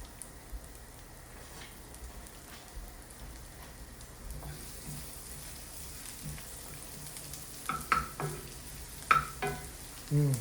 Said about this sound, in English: I'm hearing a slight sizzle, which means our oil's warmed up